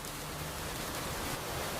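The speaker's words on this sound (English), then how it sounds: "Yes, it is raining a lot." Steady rain falls outdoors, a dense even hiss without breaks and no voices over it.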